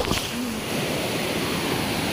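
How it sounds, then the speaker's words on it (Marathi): Steady rushing stream water in a village creek, a close, continuous wash with no clear splashes as someone wades in. "इकडे पाण्यात उतरतो आता।"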